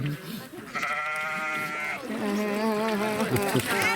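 Sheep bleat at a farm sheep-dip demonstration, with a few wavering, drawn-out bleats following one another at close range.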